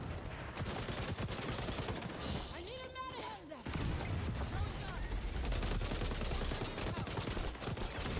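Rapid sustained automatic gunfire from the video game XDefiant, dense bursts of shots nearly continuous throughout, with a short pause and a mechanical reload-like sound midway, while someone talks over it.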